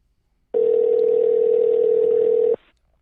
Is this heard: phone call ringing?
yes